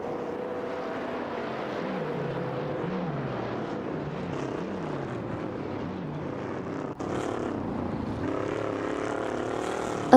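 Racing video game engines drone steadily, including a Chevrolet Monte Carlo and a Mercury Cyclone, with pitch rising and falling in repeated sweeps as cars shift and pass. The engine noise is continuous and fairly loud, with no talking.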